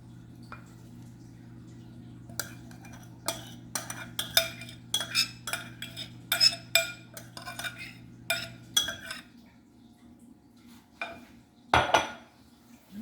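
A spoon clinks and scrapes against a metal pot while toppings go onto loaded mashed potatoes, a run of sharp close taps and knocks over steady low hum, ending with a louder scrape.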